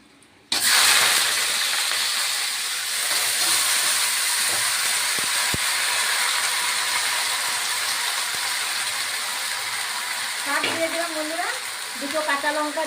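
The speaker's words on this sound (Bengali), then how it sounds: "এখন একটা শুকনো লঙ্কা ফোড়ন দিচ্ছি তাই এখন আমি শাকগুলি দিয়ে দিব" Leafy greens hit hot oil with dried chili, setting off a sudden loud hiss that settles into a steady sizzle, with someone talking briefly near the end.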